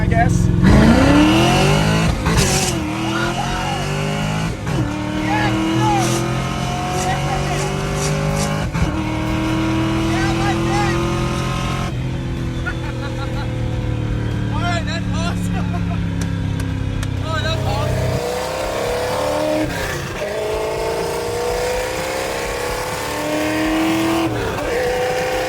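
A 1967 Ford Mustang on slicks roars through hard acceleration, its engine climbing in pitch through several gear changes over about twenty-five seconds, loud and close, with a voice talking over it.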